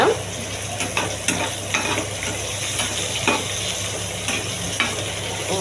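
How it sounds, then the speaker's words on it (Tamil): Chopped tomato sautés in a pan for tomato chutney, a steady close sizzle broken by regular scraping strokes of a stirring spoon. "இது கூட ஒரு தக்காளி போட்டு நல்லா வதக்கிக்கோங்க"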